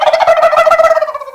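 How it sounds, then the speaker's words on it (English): A turkey gobbles loudly and up close in one rapid, warbling burst that tapers off at the end. "Turkey,"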